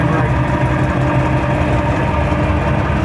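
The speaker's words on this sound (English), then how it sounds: "The engine may have a little bit of wrist pin noise." Engine of a 1956 Chevrolet Bel Air idling with slight wrist pin noise, a steady close rumble with faint light clunking under the low drone, continuous with no pauses.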